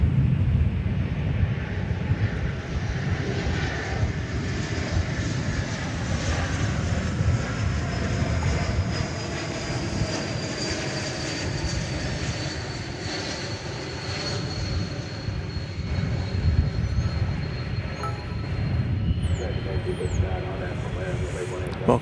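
Delta Airbus A220-200 arriving at DFW from Minneapolis–St. Paul, a steady broadband jet roar with a slowly sweeping whine, sustained and fairly loud throughout, with radio chatter and talk mixed in.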